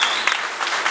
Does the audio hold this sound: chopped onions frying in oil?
no